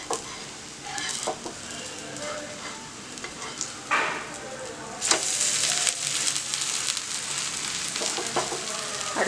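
Adai, a lentil pancake, sizzles on a hot pan with a steady frying hiss, broken by a few scrapes and stirring touches that swell the crackle midway, close and uncovered by talk.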